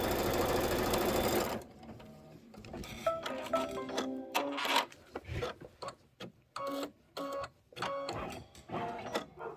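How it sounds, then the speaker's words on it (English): An embroidery sewing machine stitches a placement line on quilt fabric, with rapid mechanical needle chatter in bursts and pauses after a brief loud noise at the start, fairly close and unaccompanied by speech. "It is going to stitch a line right here."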